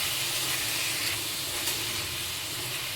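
Eggplant frying in a pan with onions and green chillies, a steady, dense sizzle and hiss that stays loud and even throughout with no talking.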